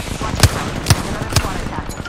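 Gunfire in a video game: three evenly spaced, punchy shots land about half a second apart over a steady background hum.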